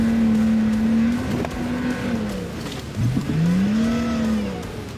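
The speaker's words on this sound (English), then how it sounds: "So I backed the vehicle down the pass again for a run-up and buried the accelerator once again." An off-road vehicle on a snowy mountain pass strains under hard acceleration, its engine droning loud and close with rising and falling revs and brief wheelspin bursts.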